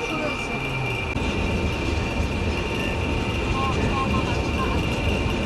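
The Paharika Express passenger train from Sylhet to Chittagong in Bangladesh stands stopped on the line away from a station, with a steady loud idling engine drone and a constant high whine, and someone talking over it.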